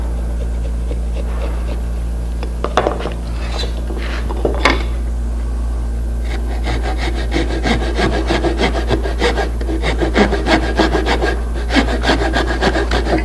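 A wood chisel pares and cleans up a cut in a hanging cupboard workpiece, producing repeated close scraping and rasping strokes that quicken into a rapid series of short shaving scrapes.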